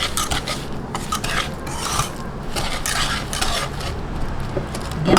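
Spoon or whisk stirring vanilla and all-purpose flour into a no-bake Boston cream cake filling, a close, continuous scraping and rubbing against the bowl with uneven strokes, no talk.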